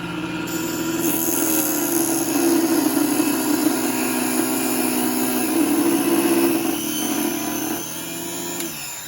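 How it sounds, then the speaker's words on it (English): A small benchtop table saw runs steadily while cutting through a piece of wood, its loud, continuous motor whine and blade noise holding for most of the stretch before easing off near the end. "I'm gonna cut this piece of wood with my little table saw"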